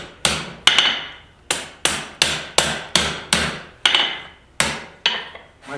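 A hammer strikes hot steel during free forming at the forge, about a dozen sharp ringing blows in a steady, slightly uneven rhythm, close and loud with short decays between hits.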